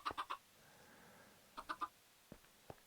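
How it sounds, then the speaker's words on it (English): Minecraft chickens in a vanilla hardcore game cluck in two short bursts of three quick notes each, with two softer single clucks trailing after a pause, close and clear with no talk. "chickens, sacrificial chickens,"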